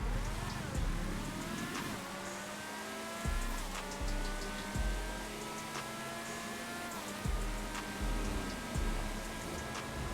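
A Principe Deveste Eight supercar in GTA Online accelerates hard, its engine note climbing and dropping through several quick gear shifts, loud and continuous, with no voices.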